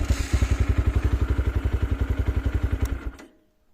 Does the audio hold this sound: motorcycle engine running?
yes